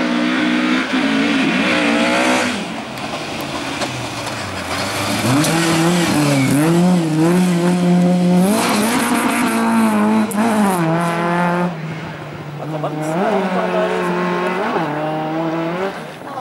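An Opel Ascona race car at a hillclimb in Vikersund, Norway, revs hard through gear changes, its engine note rising and falling loudly up close with tire squeal through a bend.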